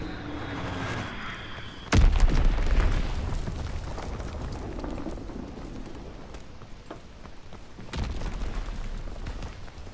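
A bomb explosion in a WW2 video game hits with a sudden heavy boom and a long rumbling tail, then a second, lighter blast follows several seconds later amid continuous battlefield noise.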